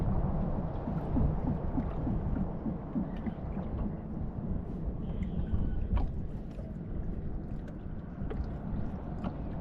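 Small motor chugs steadily with a low, rough rumble, continuous and fairly close, with faint splashing and hiss over it.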